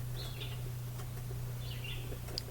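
Faint bird chirps and short calls sound twice under a tree canopy over a low steady hum, distant and soft, with no one talking.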